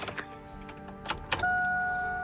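A Chevrolet Silverado 4x4 regular cab short bed truck idles quietly with a steady low engine hum, then a sustained tone rises over it near the end.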